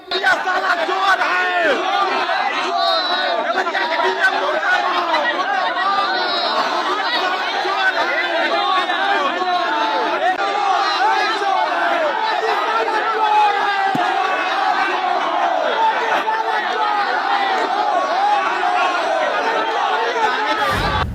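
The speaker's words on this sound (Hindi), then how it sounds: "देवरिया के डीएम के खिलाफ लगे मुर्दाबाद के नारे।" A protest crowd chants slogans against a district magistrate in Deoria, India, dense overlapping shouting and rhythmic cries that stay loud and continuous throughout.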